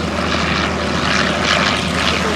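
A propeller aeroplane flown cross-controlled in waves at an airshow, its engine drone loud and steady throughout, swelling slightly as it passes, with no talk over it.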